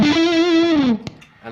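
An electric guitar through an Ibanez TS808 overdrive pedal rings out one gritty, sustained note with slight wavering, then cuts off abruptly into near quiet with a faint click.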